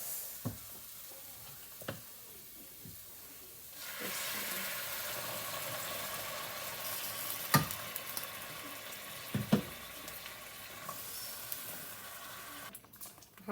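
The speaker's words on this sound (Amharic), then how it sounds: "አሁን እናደርጋለን ውሃ" Cauliflower and potato frying in a pan sizzle loudly and steadily just after water is poured in, with a hissing bed of sound broken by a few clinks and stirring knocks, up close with no talking.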